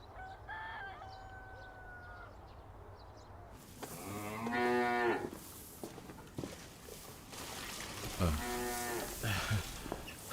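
Cattle low loudly inside a cowshed, with two long moos standing out over steady barn background noise, while a rooster crows faintly earlier on.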